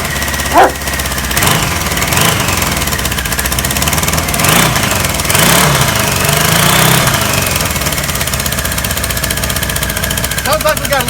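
A 1977 Kawasaki KZ1000 motorcycle engine running outdoors in snow with a slight exhaust leak, a loud steady idle with a few brief revs, close to the listener and heard alone.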